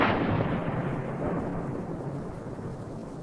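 Continuous deep rumbling booms of artillery shells landing, a heavy low roar that rolls on without a break, loud and close throughout.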